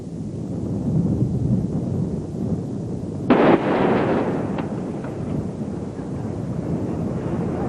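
A Viper mine-clearing line charge detonates in a single sudden broadband blast that rises over steady wind noise, then rumbles and fades back into the wind over a few seconds.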